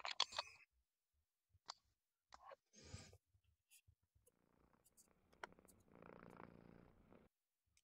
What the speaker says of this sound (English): Why the hell am I purring?